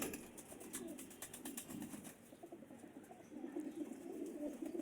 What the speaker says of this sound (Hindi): तगड़े कबूतर हैं जी माशाल्लाह।